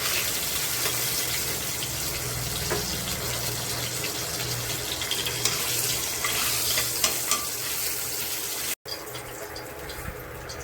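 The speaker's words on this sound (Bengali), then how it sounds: "মাছ ভাজার তেলের ভিতর শুকনো লঙ্কা আর জিরে ফোড়নে দিলাম।" Dry chili and cumin dropped into hot fish-frying oil, giving a steady, moderately loud sizzle and crackle with occasional stirring clinks.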